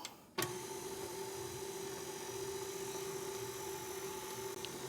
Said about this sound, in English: Put the mixer on.